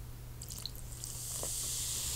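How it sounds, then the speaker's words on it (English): Vinegar poured onto baking soda, building into a steady, close, bright fizzing hiss with small crackling bubbles that grows louder and continues without pause. "First, you get the baking soda"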